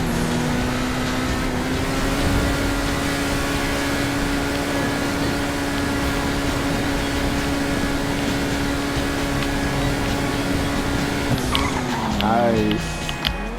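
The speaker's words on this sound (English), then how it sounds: "I'm going to shut up for a second so that we can really hear that engine there" A Grotti Turismo Classic car in a racing video game roars along with a steady engine drone, its tires squealing into a skid near the end; a voice speaks briefly at points.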